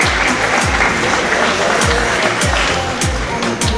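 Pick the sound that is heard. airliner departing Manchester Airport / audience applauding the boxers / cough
audience applauding the boxers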